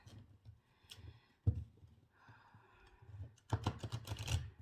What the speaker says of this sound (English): So I'm just going to shuffle these major arcana cards.